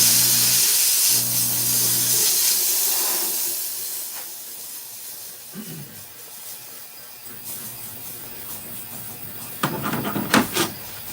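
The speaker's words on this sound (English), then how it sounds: "Let me go steam this off real quick." A steam cleaner hisses in bursts while steaming a ring clean in a jewelry shop, with broad loud jets that cut in and out and a sharper, louder flurry of spurts near the end.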